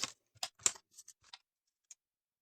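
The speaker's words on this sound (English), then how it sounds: "And then I'm gonna cut it out." Scissors cut a small tag from coffee-dyed cardstock stamped in black ink, giving about seven quiet, crisp snips spaced irregularly with brief gaps and no voices.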